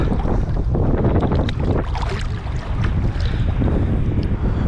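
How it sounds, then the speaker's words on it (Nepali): Ocean waves break at North Curl Curl beach, a loud, continuous rush of surf mixed with heavy wind buffeting against the microphone. "रमणीय दृश्य वेभ आइरहेको अवस्था छ"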